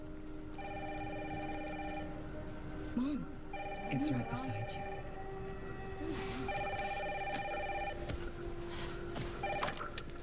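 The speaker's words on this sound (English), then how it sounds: "Mom, phone." A telephone rings in a Resident Evil 9 video game trailer, about four repeated electronic ring bursts in a steady rhythm over a rain hiss, while a voice speaks between them.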